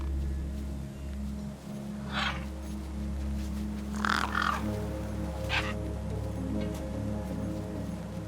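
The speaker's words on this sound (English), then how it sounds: "The gang birds were eyeing up the corpse hungrily." Three separate caws from gang birds in the game Beyond a Steel Sky ring out over a steady humming ambient drone, spaced a second or two apart at moderate distance.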